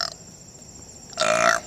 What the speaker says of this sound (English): here's a couple burps for the road